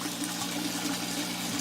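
Water running steadily from an aquarium siphon hose into a bucket during a tank water change, a continuous soft trickling flow, close and alone.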